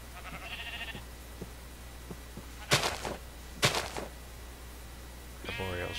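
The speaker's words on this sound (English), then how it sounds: "arboreal sheep." Sheep in the Minecraft video game bleat in two short, loud calls near the middle, over soft footstep-like thuds and a faint game background, with a voice speaking briefly at the start and end.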